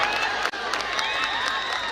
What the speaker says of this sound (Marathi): ते जोरदार टाळ्या वाजून त्याचं कौतुक होतंय